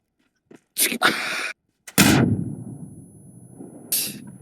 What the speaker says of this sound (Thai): ใครเล่นระเบิด